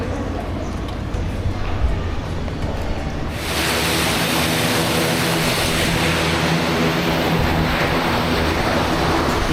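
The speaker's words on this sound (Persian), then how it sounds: "دقیقاً بغل خیابون هواپیما نشست" An airplane landing right beside a street in El Nido, Palawan: a loud, steady roar of engine and rushing air that swells suddenly and then holds, close by and overwhelming the surroundings.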